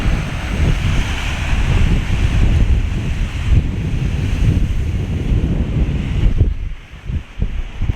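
Big ocean waves crash onto a rocky Aruba shore in a continuous loud roar of surf, with wind buffeting the microphone throughout and a brief lull near the end before the surge returns.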